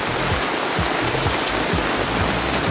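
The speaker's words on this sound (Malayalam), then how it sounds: "നമ്മൾ കാണും പോലെയൊന്നുമല്ല, പുറത്ത് നല്ല മഴയാണ്" Heavy rain pours down outside a home, a dense, steady, unbroken rush that fills the whole stretch with no voices over it.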